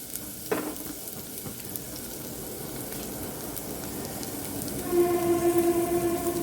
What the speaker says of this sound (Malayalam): ഈ ഉള്ളി അതിലേക്ക് ഇട്ടിട്ട് നല്ലപോലെ ഒന്ന് വഴറ്റി കൊടുക്കാം